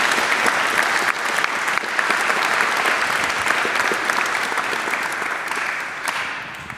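An audience at a French talk on a new quantum revolution applauds the speakers, dense and even clapping that stays loud throughout before easing slightly at the very end.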